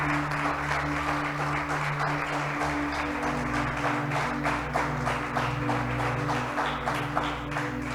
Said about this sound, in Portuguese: Pode aplaudi-lo.